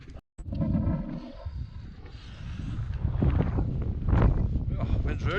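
Wind gusts buffet the microphone on an exposed mountain path in Snowdonia, rising in strength to a loud rushing roar while someone talks.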